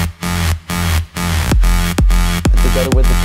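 Layered electronic bass line with reverb, two sounds playing the same notes, loud sustained low tones broken by short gaps, with pitch-dropping hits in the second half.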